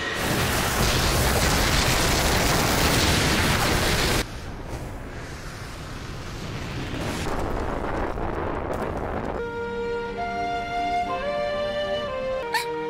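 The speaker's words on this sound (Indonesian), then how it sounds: "Mary Jane memilih untuk ikut terkena ledakan sambil melindungi Lisanna" A loud, roaring explosion in a Fairy Tail anime fight fills the first few seconds, then cuts to a lower rumbling blast and wind-like noise before musical tones enter at the end.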